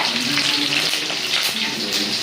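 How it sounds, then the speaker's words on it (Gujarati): Big chillies fry in hot oil with a loud, steady, close sizzling hiss that runs unbroken throughout. "મોટા મોટા મરચા તળે છે"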